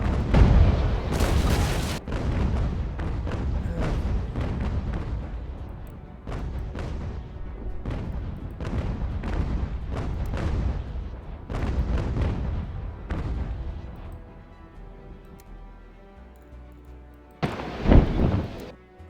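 Naval cannons boom repeatedly in a video game sea battle between ships, a dense run of heavy blasts with one last big report near the end.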